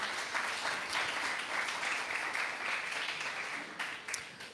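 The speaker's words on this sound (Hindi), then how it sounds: "आप लोग खुद के लिए ताली बजा लीजिए" A live audience claps for itself in a sustained, dense round of applause heard on its own, with no talk over it.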